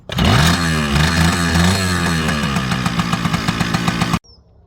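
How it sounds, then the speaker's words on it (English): A Kawasaki KE100 two-stroke motorcycle is kicked over and runs loud and close, its raspy, buzzing exhaust holding steady for about four seconds before cutting off abruptly. "Kawasaki KE100, just kick it."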